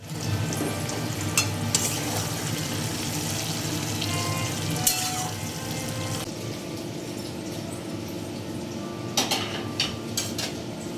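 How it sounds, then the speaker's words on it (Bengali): Potatoes sizzle steadily in a hot kadai, with occasional clinks and scrapes of a utensil stirring them throughout. "আলু ভেজে নিলাম"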